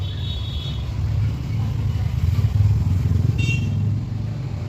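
E-rickshaws (toto) passing along a busy road, a steady low motor rumble and rolling tyre noise close by, swelling as a vehicle goes past, with a brief horn-like tone cutting through.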